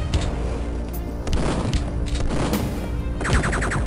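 Turrets firing in Duke Nukem 3D: Megaton Edition, rapid bursts of booming shots and explosive cracks over a few seconds, loud and close, with a quicker rattling volley near the end.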